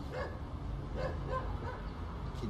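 Dogs bark and yip in a neighbourhood, several short faint barks spaced out over a low background rumble, somewhat distant.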